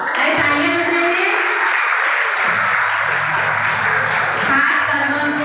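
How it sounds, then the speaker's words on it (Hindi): A group claps hands in sustained, dense applause for several seconds, loud and continuous, with a voice speaking over it in a classroom-like setting. "तालियां बजाइए।"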